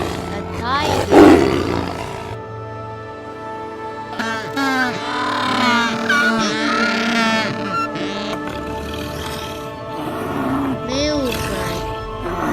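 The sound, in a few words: tiger roaring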